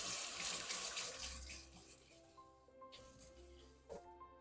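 Tap water runs into a kitchen sink while a whisk is rinsed beneath it, a steady, moderately loud wash that gradually softens, with a faint clink near the end.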